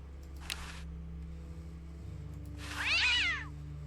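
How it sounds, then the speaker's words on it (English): A cat meows once in Day of the Tentacle Remastered, a clear rising-falling call near the end over a low steady hum, with a faint short sound earlier. "What a pretty pussycat."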